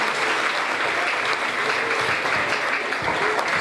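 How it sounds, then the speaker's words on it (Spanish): An audience at an outdoor morning ceremony for an emergency drill applauds steadily, moderately loud and continuous, with faint murmurs beneath the clapping. "a quien también recibimos con fuertes aplausos"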